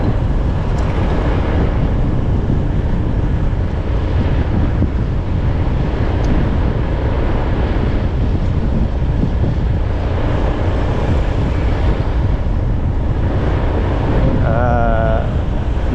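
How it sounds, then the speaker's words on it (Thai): Steady, loud wind buffets the microphone outdoors on a hot day along a road in Thakhek, Khammouane, Laos, a constant low roar filling the whole stretch without a break. "ลมพัดก็เป็นแบบอุ่นๆ"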